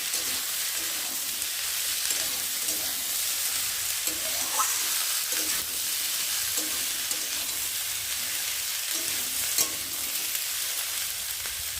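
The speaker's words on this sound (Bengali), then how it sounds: "এগুলো সবজির সাথে পেঁয়াজটা ভালো করে ভেজে নেব।" Sliced onions frying with vegetables in a pan give a loud, continuous close sizzle, like steady rain, with occasional soft stirring scrapes and no voices.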